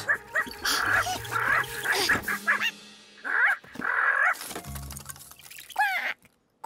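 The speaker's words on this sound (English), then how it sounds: "When she looks at herself, she makes that special quack." A cartoon duck quacks in a series of short, bright calls with pauses between them, set over cartoon music and effects.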